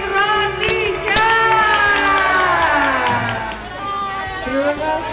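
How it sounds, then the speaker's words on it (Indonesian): A crowd cheers and shouts at a bakery's grand opening, a dense, loud swell of many raised voices with some clapping mixed in, holding steady for several seconds. "Kita beri tepuk tangan yang meriah untuk grand opening Roti Ca."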